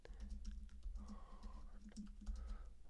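A file name is typed on a computer keyboard as quick, quiet runs of key clicks in a short, irregular burst, close by and faint.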